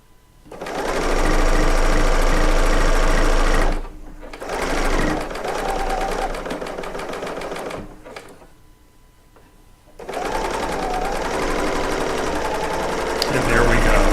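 A serger sewing machine stitches through a quilt in loud, rapid bursts of rattling, whirring motor noise, broken by short pauses, with a voice speaking between runs.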